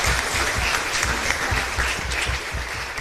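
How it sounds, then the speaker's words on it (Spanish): Congregation in a small chapel breaks into hearty applause after Mass, a close, steady patter of many hands with rhythmic low thumps underneath. "Un fuerte aplauso para todos."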